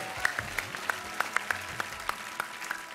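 Audience applause for the children at a televised Ramadan iftar competition show: a thin scattering of separate handclaps in uneven rhythm, fairly close and moderately loud, with no talk over them.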